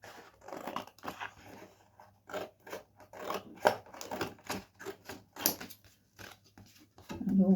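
Scissors snip repeatedly through excess card while making a handmade card with Hunkydory Garden Treasures ephemera, a quick series of close, crisp cuts in an irregular rhythm.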